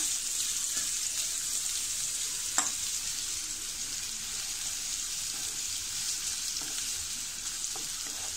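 Finely chopped onion frying in hot oil for a Kolhapuri chicken tempering, a loud steady hiss throughout with a couple of faint clicks of a stirring spoon, no voices.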